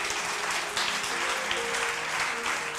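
A church congregation applauds the Lord during a sermon, a steady wash of many hands clapping, fairly distant and even throughout, with a faint voice beneath.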